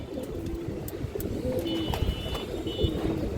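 Several pet pigeons coo repeatedly at close range, soft rolling calls overlapping with faint chirps and light background noise.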